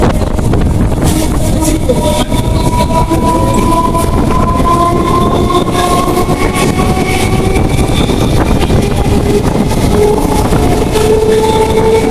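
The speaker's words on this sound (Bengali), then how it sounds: "আমি ট্রেনে উঠলাম এবং ট্রেনটি ছেড়ে দিল" A train on the Kolkata to Benapole route rumbles steadily along the tracks, close and loud, with a continuous roar and faint rhythmic clatter throughout.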